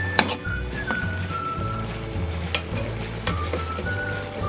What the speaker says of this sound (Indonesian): Kita tambahkan saus tiram, kita aduk